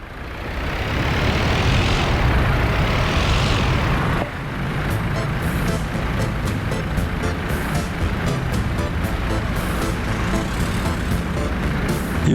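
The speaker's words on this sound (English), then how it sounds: "Watch out for the truck." A truck in the Soviet-era city-building game Workers & Resources: Soviet Republic rolls by with a steady, loud engine drone and road rumble that fills the whole stretch, with no one talking.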